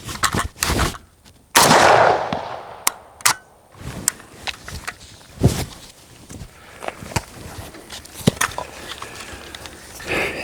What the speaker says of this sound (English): Got one round left, let's shoot it.